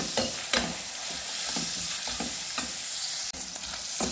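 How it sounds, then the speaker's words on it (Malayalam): Onion and curry leaves sauté in a pan for a beef curry, a steady close sizzle broken by repeated scraping stirs of a spoon against the pan, with no talking. "ഒരു സബോള എടുത്ത് നമുക്ക് വാട്ടാം കുറച്ച് വേപ്പല ഇട്ട് കൊടുക്കാം നമുക്ക് രണ്ടും കൂടി നന്നായി മിക്സ് ചെയ്യാം"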